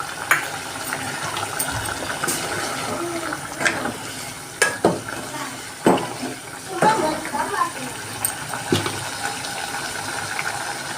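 Wheat flour mixed with water is stirred into chicken curry cooking in a pan, giving wet scraping, sloshing strokes and soft sizzling while a voice talks over it.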